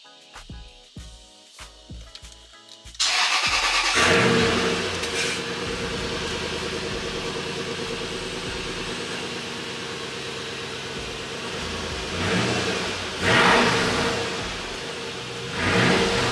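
A Lexus GX470 V8 with a muffler delete cranks briefly, catches and fires up after fresh spark plugs and coil packs, then settles into a loud, throaty idle with a few blips of revving.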